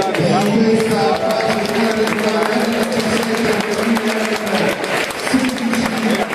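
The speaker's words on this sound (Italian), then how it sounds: "partiamo con un bel applauso per le protagoniste di questa" Crowd applause at a youth basketball award ceremony for under-16 women's and under-17 men's teams, a steady dense wash of clapping filling the whole stretch, with a voice speaking over it.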